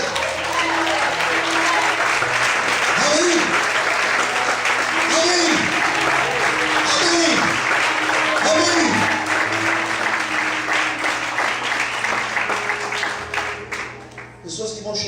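A church congregation breaks into loud, sustained applause that fills the room, while voices call out repeatedly over the clapping before it thins toward the end.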